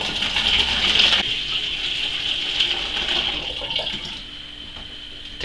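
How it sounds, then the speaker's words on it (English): Cold water poured from a kettle into a vessel, a steady splashing gush for about a second that settles into a softer continuous trickle, close up with no talk. "I'm putting in cold water"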